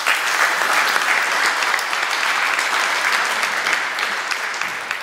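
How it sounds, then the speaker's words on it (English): An audience at a conference applauds a speaker, with dense steady clapping from many hands that fades slightly toward the end. "So again, a round of applause to Lucius."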